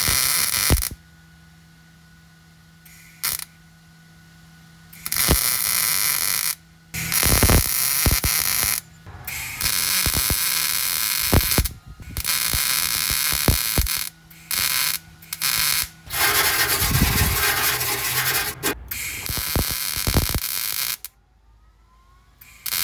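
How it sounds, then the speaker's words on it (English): A patch piece is welded into a 1967 Mustang convertible frame rail, with loud bursts of crackling, buzzing welder arc broken by short pauses and a quieter hum between runs. "So I'm gonna get set up and weld that in."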